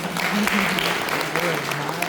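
An audience applauds at a retirement function, a dense, steady wash of clapping with a voice talking over it.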